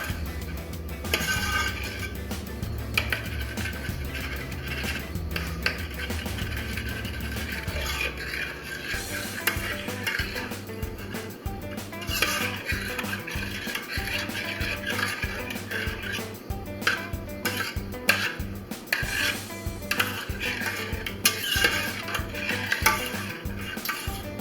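Gummy bear mixture being stirred in a pot on the stove, with repeated scraping and clinking of a utensil against the pot in an irregular rhythm, close up and without talk.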